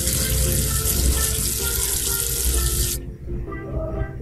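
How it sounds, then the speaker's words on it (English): A steady rush of tap water rinsing soap off a number being washed, a broad hissing flow that runs loudly for about three seconds before cutting off abruptly, leaving only low background sound. "Wash away the soap with water."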